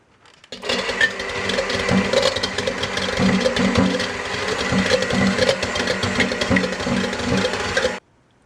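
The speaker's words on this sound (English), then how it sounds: "When you start beating the egg whites, start slowly and gradually build the speed" Electric mixer beating egg whites for French macarons, a steady mid-pitched motor whir with rattling beaters, running continuously at close range for about seven seconds before cutting off abruptly, with no talk.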